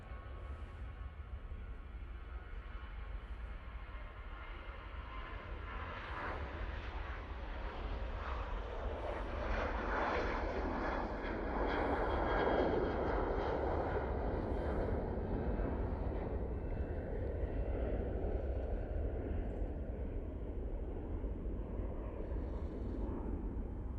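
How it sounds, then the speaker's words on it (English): A Cessna Citation Sovereign business jet starts up at Manchester Airport, heard from a distance as a broad, rising engine roar that swells and holds steady, with no talk over it. "Starting up over at Signature. Ah, yes, we do. We've got a Cessna Citation Sovereign"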